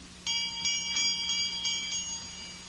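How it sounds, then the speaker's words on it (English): A bright, high bell rings in rapid repeated strikes for a couple of seconds, fairly close and alone with no voices. "I'm trying to see where that bell came from."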